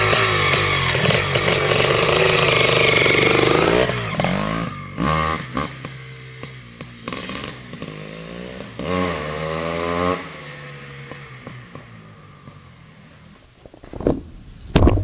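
A 1983 Yamaha YZ490 two-stroke motocross bike roars loudly at full throttle, then drops into a series of sharp, rising and falling revs. The engine fades toward the end with a last burst.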